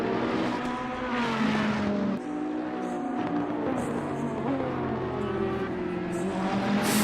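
Bentley and Ferrari GT3 race cars in Assetto Corsa Competizione at Bathurst roar steadily, their engine notes rising and falling as they chase each other closely, loud and continuous throughout.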